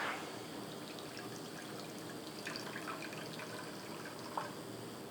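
Water pours and trickles steadily into a container in a home kitchen as the base for a butterfly pea flower extract, a continuous close splashing with a few small drips and no talk.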